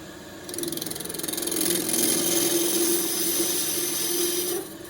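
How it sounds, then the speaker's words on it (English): Skew chisel, a 3/4 inch skew, making a smooth shoulder cut on a lathe-turned bark box of very hard Tasmanian horizontal scrub; a steady close hiss and whirring scrape runs nearly five seconds, then drops away. "Skewing cut with a skew chisel, a 3/4 inch skew."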